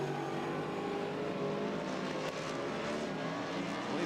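Race cars circle the oval at Robertson Prestige International Speedway, a continuous layered engine roar at moderate distance that carries on unbroken without any talk.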